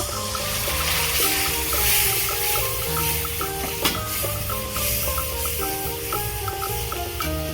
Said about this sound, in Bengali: মশলা দিয়ে ভালো করে কষিয়ে নিয়েছি অল্প একটু জল দেব